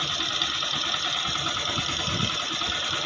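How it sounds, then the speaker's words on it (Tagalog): Idling Yamaha YTX 125 motorcycle engine, fitted with a Keihin carburetor, a steady close mechanical hum with an even, slightly rough pulse throughout, alone with no talk. "So yun naman yung tining ng makina niya."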